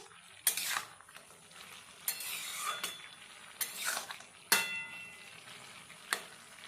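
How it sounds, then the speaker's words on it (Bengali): A spatula stirs bottle gourd curry with fried lentil dumplings (bori) in a wok, scraping and clinking against the metal in repeated strokes over a soft sizzle, close and alone without speech. "এবার বড়ি দিয়ে আবারও ভালোভাবে নেড়ে চেড়ে নেওয়া হচ্ছে।"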